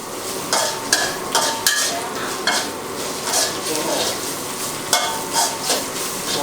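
Shiitake mushrooms stir-fried in a wok, with a spatula clanking and scraping the metal in quick, irregular strokes over a steady sizzle, close and loud, with no voice.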